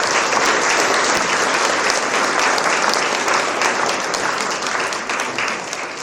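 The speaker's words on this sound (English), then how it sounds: "please give one more round of applause." A large audience at a university symposium opening ceremony in Vanuatu applauds steadily and loudly, dense clapping filling the whole stretch before easing slightly at the end.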